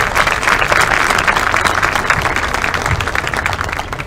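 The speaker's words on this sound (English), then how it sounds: "So you give him a round of applause for that." Guests at a high school football awards banquet applaud loudly and steadily, a dense wash of many hands clapping close by, easing slightly near the end.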